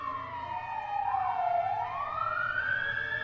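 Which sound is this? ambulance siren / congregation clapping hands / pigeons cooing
ambulance siren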